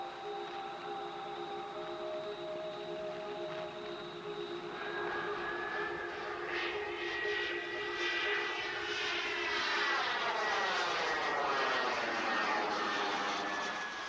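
A model aircraft flies with a steady engine drone that grows louder, then its whining harmonic tone swoops and shifts in pitch as it passes overhead, staying prominent with no talk.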